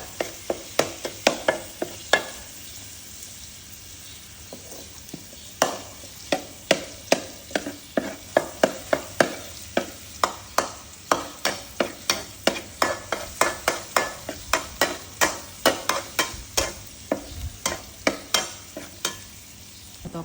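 Garlic sizzling in a hot pan while being stirred, with a long run of sharp, rhythmic scraping strokes over a soft, steady fry.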